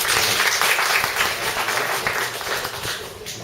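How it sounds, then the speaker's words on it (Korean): Applause from a church congregation welcoming guests, a broad wash of clapping that is steady at first and then tapers off toward the end. "우리 박수로 환영하실까요?"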